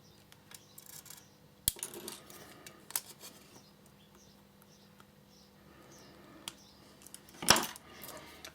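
Small wire cutters snip the soldered wire ends on a Raspberry Pi pyramid kit board, a few sharp isolated clicks spaced seconds apart against a quiet workbench background.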